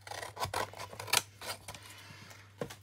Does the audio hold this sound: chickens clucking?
no